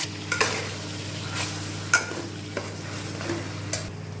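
Paste made from two large onions fries in oil with fenugreek and cumin, a constant sizzle punctuated by several crisp spoon-against-pan scrapes and taps as it is stirred, no voices.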